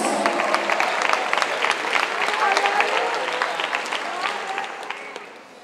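A church congregation breaks into applause, a dense wash of clapping that swells and then gradually fades away over a few seconds, with faint voices mixed in.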